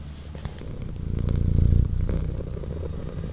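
Pet cat purrs close to the microphone, a low rhythmic rumble that swells louder in the middle and eases off again, with no talking.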